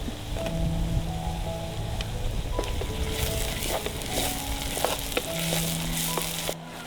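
Green chillies hit a pan of fried onions and crackle, making a dense, rain-like sizzle that stays loud and close throughout, with occasional sharp pops and light stirring.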